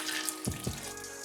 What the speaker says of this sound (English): Stir and pour in a glass of hot water.